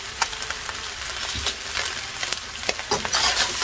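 Paprika, garlic powder and curry powder sizzle in a frying pan for a classic meat pie filling, a steady crackle broken by repeated sharp scraping strokes of stirring, close and moderately loud with no talking.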